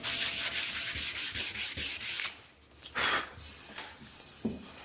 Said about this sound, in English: go over it with hand sandpaper. I'm using 100, and then I'll finish with 220.